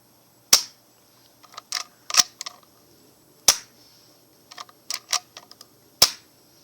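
A KJW M700 Marine airsoft sniper rifle fires without its suppressor: three sharp, fairly quiet shots, each followed by a flurry of crisp clicking and clacking bolt-cycling sounds, close up with no talking.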